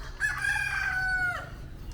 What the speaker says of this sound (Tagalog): Yung mga native na manok.